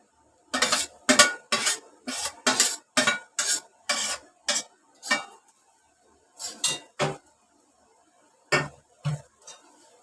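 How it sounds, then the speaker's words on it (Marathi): A spoon works through a Malvani-style onion and coconut masala paste with about a dozen rhythmic scraping, clinking strokes against the vessel, some in quick runs and some with pauses, loud and close, and no speech. "ह्याच्यात मिक्स करून घेते."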